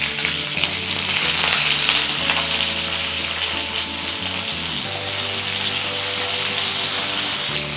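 Sliced onion frying in hot oil with crackled mustard seeds, cumin and curry leaves, a steady close sizzle running alone under background music throughout.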